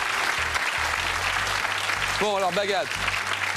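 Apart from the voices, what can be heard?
audience applause for Victor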